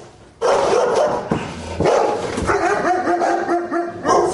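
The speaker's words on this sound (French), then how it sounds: "On a des chiens là." Several dogs bark repeatedly and loudly nearby, overlapping yaps and woofs in an irregular, continuous chorus.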